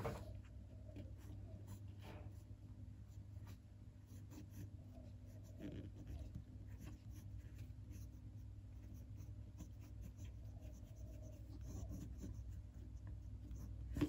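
Lamy fountain pen with a standard medium nib writing on paper, a faint, steady scratching that runs continuously under a low room hum with no talking.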